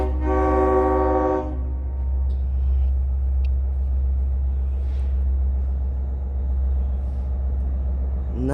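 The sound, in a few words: train locomotive arriving at Oyster Bay station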